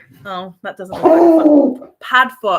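A dog barks at a mail carrier at the door, a loud bark and whimper mixed in with a person talking close up, overlapping the speech rather than heard alone.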